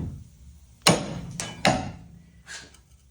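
Hammer blows drive lug studs out of a Jeep wheel hub: three or four sharp metallic whacks, irregularly spaced, near and loud, with brief ringing after each and no talking.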